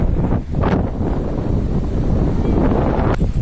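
Strong wind at a beach buffets the microphone in a loud, continuous roar, with gusts swelling and dipping.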